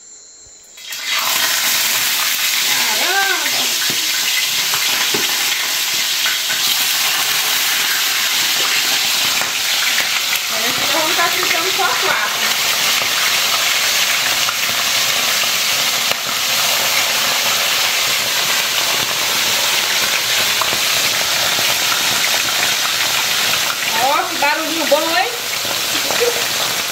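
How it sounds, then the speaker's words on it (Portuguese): Fish frying in hot fat at a farm, a loud steady sizzling hiss that runs nearly the whole time with brief gurgling bubbles, and a faint voice in the background. "Agora vamos colocar o peixe para fritar, para a gente almoçar ainda."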